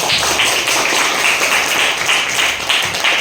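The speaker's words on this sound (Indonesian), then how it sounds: "tepuk tangan untuk kita semua." A class of children clapping together in a classroom, a fairly loud, rhythmic burst of synchronized claps with a patterned beat that repeats across the whole stretch.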